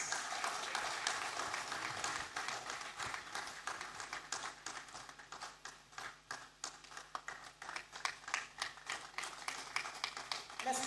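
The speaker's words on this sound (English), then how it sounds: "keep applauding our recipients as they make their way to take the award" An awards ceremony audience claps for research award recipients walking up to collect their awards, a steady patter of hands that thins into scattered claps, fairly distant and soft.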